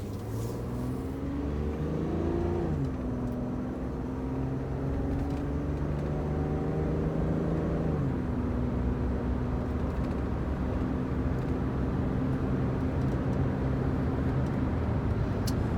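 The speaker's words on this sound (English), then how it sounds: "all the way up to about 55 miles an hour, nice and smooth, shifted all the way up through the gears, no problem" A 2002 Chevy Trailblazer LTZ 4x4 pulls away on a road, its engine note climbing, dropping at each upshift and climbing again as it moves through the gears. The drone is loud, steady and close, with no talk.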